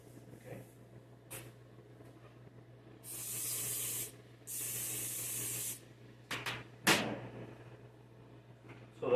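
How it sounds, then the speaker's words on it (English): Spray bottle misting bread dough in a home kitchen, two long hissing bursts of about a second each, followed by a few shorter squirts and clatters, close and clear. "We're going to spray them all down. All right, give them a good spray."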